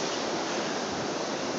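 Ocean surf washing onto a beach, a steady broadband rushing roar of breaking waves, loud and close, filling the whole moment without speech.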